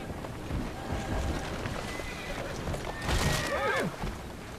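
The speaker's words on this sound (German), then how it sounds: "Und fahren natürlich mit der Kutsche dorthin." Horse-drawn carriage in Assassin's Creed Syndicate: steady clip-clop of hooves and rolling wheels throughout, with a loud horse whinny near the end, under faint game ambience.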